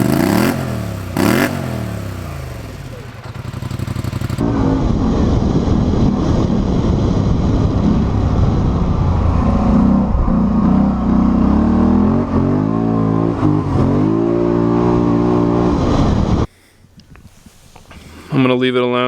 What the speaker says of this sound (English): This is a hunting ATV, and it really has a nice rumble.